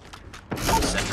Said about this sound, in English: Sentry gun ready to deploy.